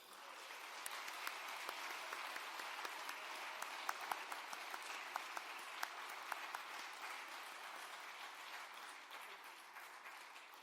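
An audience at a Welcome Home event bursts into steady, sustained applause that welcomes a speaker. The clapping is dense and even, a crowd of many hands heard from a short distance, and it fades slightly toward the end.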